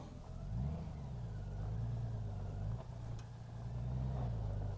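A Honda Goldwing bagger motorcycle with a manual gearbox pulls away, its engine revving up and settling through a few gear changes, close and steady, with no talking.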